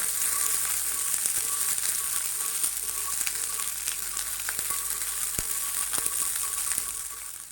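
Green peas sautéing in oil in a pan over low gas for a Marathi matar kachori filling, giving a steady, close, continuous sizzle and crackle that runs unbroken from start to finish, with no voices over it.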